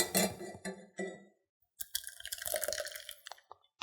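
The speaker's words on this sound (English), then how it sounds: "We're just going to strain this through a fine mesh sieve." A cucumber martini cocktail strains through a fine mesh sieve into a glass, giving a few soft clinks followed by a short spell of quiet, light dripping and trickling, close by and faint.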